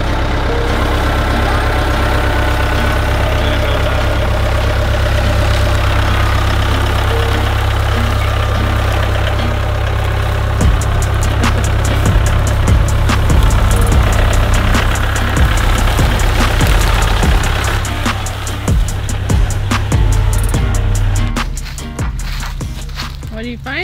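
A four-wheeler engine idles with a steady low rumble through most of the clip, loud and close, with scattered knocks and shifts in tone, then drops off toward the end.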